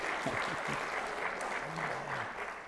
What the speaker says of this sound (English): We're going to have her own little applause here